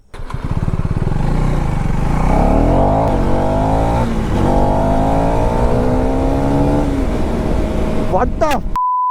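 A KTM 390 motorcycle engine revving close by, a loud continuous roar rising and falling in pitch before cutting off abruptly near the end.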